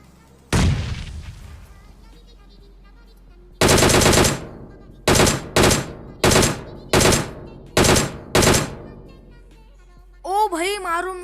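Loud gunfire in PUBG Mobile: one sharp shot, then a sustained automatic burst followed by six short bursts in a steady rhythm, each trailing off, with a brief tonal game sound at the end.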